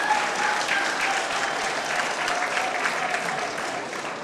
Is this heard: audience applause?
yes